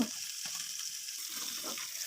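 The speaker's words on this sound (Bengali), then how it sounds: "পিঠ উল্টিয়ে পাল্টিয়ে ভালোভাবে মাছগুলো ভেজে নিব" Large bata fish frying in oil as they are turned over, giving a continuous close sizzle with a few soft scraping stirs.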